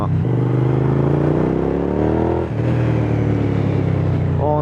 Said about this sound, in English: Honestly, this bike sounds so good.